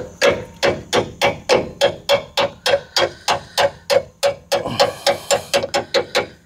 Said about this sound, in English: I should be able to tap this back a little bit,